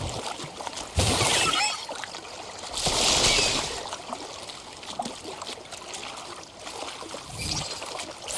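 A cascading waterfall in the video game Wuthering Waves, with a continuous rushing pour that swells louder in a few bursts and then settles back, heard on its own without talk.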